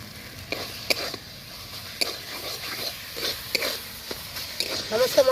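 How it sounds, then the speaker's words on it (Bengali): Spices and chopped tomato sautéing for chicken curry, a soft sizzle under repeated clinks and scrapes of a stirring spoon against the pan, close by with no clear talk. "সমস্ত মশলা খুব ভালো করে কষিয়ে নিতে হবে।"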